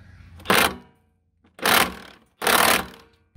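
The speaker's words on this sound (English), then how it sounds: "so I'm gonna tighten it real quick" A tool tightens a rusted bolt on the rear end of a Jeep Cherokee XJ during a lift install: three loud, harsh bursts, each under a second long, separated by silence.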